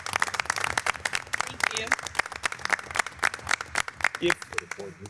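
Audience applause at a school board of education meeting: a steady run of claps from a modest crowd in a meeting room, fairly close, with a voice speaking over it near the end.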